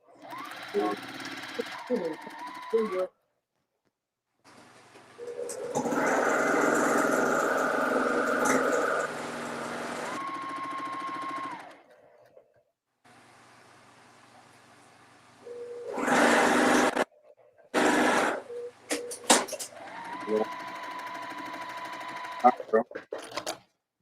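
Sewing machine stitching a row seam on a patriotic Churn Dash quilt, with bursts of rapid mechanical whirring separated by pauses, close and fairly loud, and brief talk between runs.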